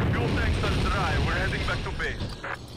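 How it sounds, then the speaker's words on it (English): A chopper gunner helicopter in Call of Duty: Modern Warfare gives a loud, constant rumbling roar with combat noise mixed in, while voices talk over it. "Chopper gunner."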